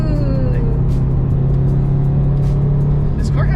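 A Subaru STI engine hums with a steady, loud low rumble from inside the car, holding a constant drone with faint clicks and rattles, no one talking over it.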